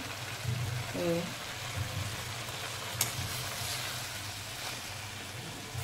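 Carrot halwa (gajar halwa) cooking in ghee on a gas stove gives a steady soft sizzle and bubbling throughout, with a single faint clink partway.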